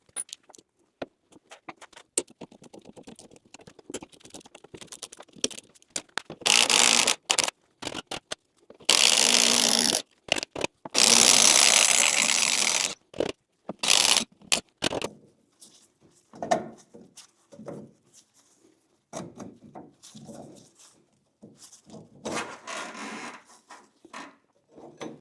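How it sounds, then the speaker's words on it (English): Rusty nuts holding the leaf spring on a Mazda B-Series truck are removed with a tool, producing intermittent clicking, metallic rattles and several long bursts of loud ratcheting or grinding close by, with no speech. "remove these 4 nuts right here that's holding the spring in place"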